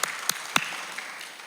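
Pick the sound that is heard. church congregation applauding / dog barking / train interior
church congregation applauding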